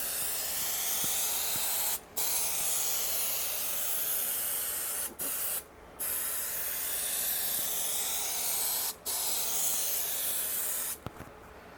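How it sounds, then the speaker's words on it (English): Spray adhesive hisses from an adjustable can nozzle during vinyl and Thinsulate insulation work in a van build. The hiss is loud and steady, broken by a few brief pauses, with no one talking. "You can turn the spray up and down by turning this top nozzle, which is pretty clever."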